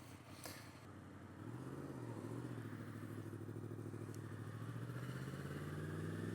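Yamaha MT10SP motorcycle ridden on a Lake District road, its engine a close, continuous drone that swells and climbs in pitch after the first second and holds steady under rising wind noise.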